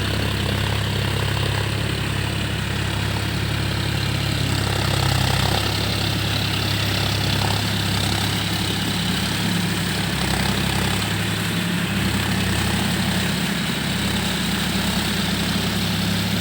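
A tractor ploughs a paddy field at Vachappuram, its engine a steady, unbroken low drone at moderate distance that holds level throughout, with no talk.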